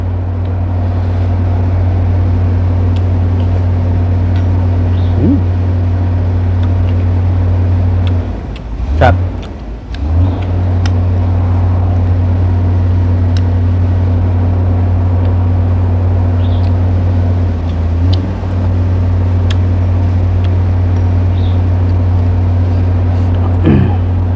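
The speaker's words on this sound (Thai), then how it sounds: "เสียงอาจจะดังในจังหวะเด้อเสียงรถพี่หน่อย" A steady, loud low engine rumble runs throughout with a constant hum, briefly dipping once midway, with faint voices in the background.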